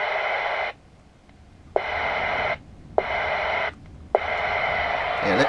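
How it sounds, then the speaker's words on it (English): CB radio squelch on channel 9 cuts in and out in four bursts of loud hissing static separated by short quiet gaps, each burst starting with a sharp click. "You can hear the squelch sounds really good."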